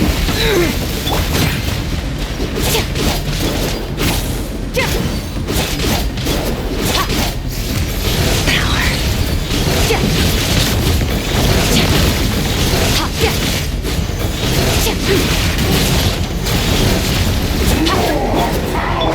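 Bombs bursting in a Genshin Impact battle, a dense, loud barrage of booms and crashes running continuously with layered game effects and music, with some voices mixed in.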